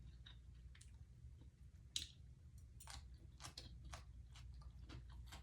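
Someone chews raw vegan carrot salad at close range: a quiet, irregular run of crisp crunches and bites over a low background hum, with no talk.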